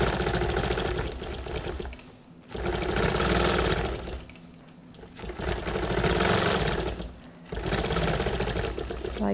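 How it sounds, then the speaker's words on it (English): Longarm quilting machine stitching across quilt blocks, a close, loud rhythmic mechanical hum that swells and dips in several passes, with faint talk underneath. "I'm going to take little stitches across where I've already stitched in the ditch and complete that."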